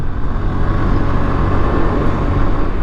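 A Suzuki Burgman Street scooter rides through city traffic, giving a constant broadband rumble of engine and road noise with passing-vehicle wash and steady loudness throughout, no talking.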